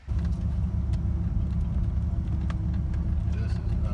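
A low car that needs an alignment drives along the road, giving a steady low rumble of engine and tyre noise throughout, with faint clicks and rattles from inside the cabin.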